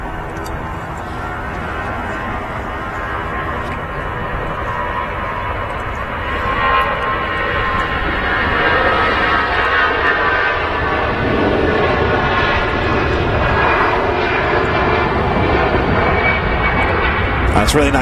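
An Aer Lingus ATR turboprop at Manchester Airport gives a steady engine drone that swells and stays loud, with a faint whining tone running through it.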